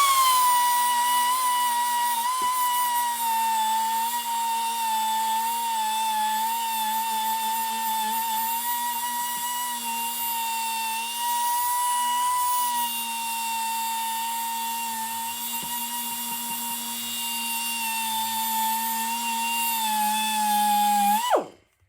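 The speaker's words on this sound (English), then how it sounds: "As the compressor kicks on, I'll just make sure to avoid that, because it does get pretty loud." A steady, high-pitched mechanical whine and hum of an air compressor in a garage drones on for a long stretch without pause, then cuts off abruptly at the end.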